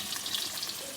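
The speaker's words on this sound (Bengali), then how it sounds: "মাছ রান্না হচ্ছে" Bata fish cooks in a pan with a soft, even sizzling hiss, faint and steady throughout, with no voices.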